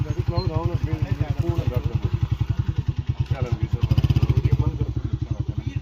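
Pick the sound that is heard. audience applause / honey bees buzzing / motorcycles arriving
motorcycles arriving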